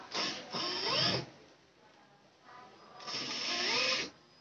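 Close bursts of sewing machine stitching on blouse dori piping, two runs of steady mechanical whirring about a second long each, separated by a quiet pause.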